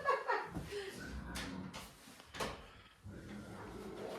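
A farrowing stall door on a Kune Kune pig farm is opened with a few close knocks and scrapes of the latch and door.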